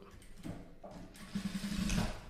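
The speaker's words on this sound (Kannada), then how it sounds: "ಈ ಲೈನಿಂಗ್ ಕಡೆ ಇದನ್ನು ಈ ರೀತಿ ಲೈನಿಂಗ್ ಕಡೆ ಇಟ್ಕೊಂಡು ಈ ಕಡೆ ಸೈಡು ಒಂದು ಹೊಲಿಗೆನ ಹಾಕ್ಕೊಳ್ಬೇಕು" Sewing machine running briefly as it stitches a seam along garment lining, a quiet, close mechanical whirr that builds toward the end.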